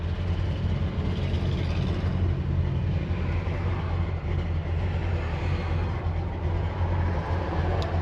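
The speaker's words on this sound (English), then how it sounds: "The exhaust sounds real well." Steady low exhaust rumble from an idling 1986 Chevy C10 pickup truck engine, close and constant throughout, without talking.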